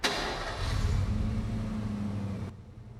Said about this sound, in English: I thought we might need a getaway car